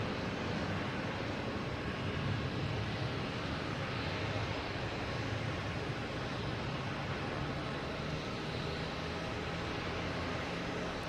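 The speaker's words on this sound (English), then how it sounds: "So next takeoff, we have a Delta and A321 heading to Atlanta" A Delta Airbus A321 taking off at Boston Logan, heard as a steady, broad jet engine roar that holds at constant loudness throughout, with no voices.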